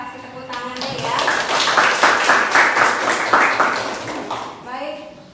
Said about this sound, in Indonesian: Kelompok 4 kasih tepuk tangannya ya